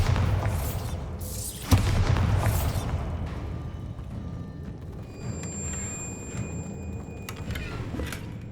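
Bombarda explosion spells cast in the Hogwarts Legacy video game, heard as deep booming blasts, a sharp thud near the start and rumbling bursts, over continuous low game ambience and scattered magical chimes.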